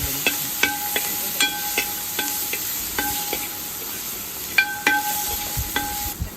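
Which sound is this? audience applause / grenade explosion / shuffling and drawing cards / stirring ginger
stirring ginger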